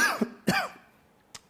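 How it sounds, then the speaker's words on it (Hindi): Two short throaty coughs or throat clears close together, with a faint third burst a moment later, indoors in a classroom setting. "खांसी जो है मेरी"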